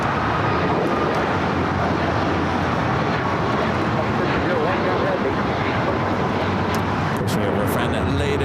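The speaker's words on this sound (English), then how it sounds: "ITA number 2 for takeoff on the north side, flight 621 heading back to Rome" Airliner departing LAX, an ITA Airways jet bound for Rome, with a loud continuous broadband engine roar filling the whole stretch, steady and close, with faint voices mixed in.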